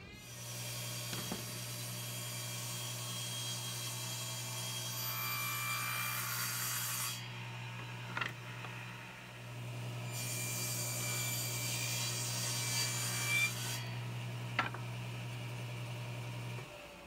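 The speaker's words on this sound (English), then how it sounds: "I will put it in here and run it through the table saw." A table saw runs with a steady motor hum while a 5-degree groove is cut in wood, and two longer bursts of bright cutting noise rise over the drone, with a few sharp knocks in between.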